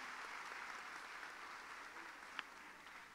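An audience at a youth excellence awards ceremony in San Cristóbal applauds for Yacel Pérez, a soft, distant, continuous wash of clapping with one sharper clap near the end.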